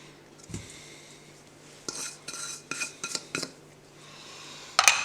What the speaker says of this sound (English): I'm going to start to stir this together